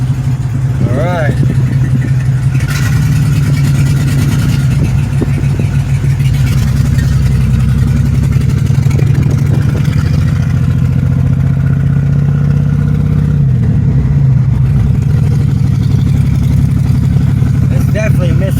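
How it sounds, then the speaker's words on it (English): A 2006 Pontiac Grand Prix engine idles steadily with a low, constant drone and uneven, stumbling misfire pulses, loud and close throughout, while people talk nearby. "It's definitely misfiring."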